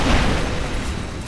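A Benelli M4 shotgun fires in Special Force 2, a loud, broad boom filling the whole moment and decaying only slightly, with no voices.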